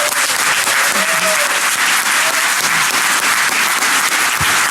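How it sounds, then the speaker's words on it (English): Loud, sustained applause from a large audience at the DEF CON hacker conference, a dense wash of clapping that holds steady throughout with a few faint voices underneath. "A big round of applause for Jim."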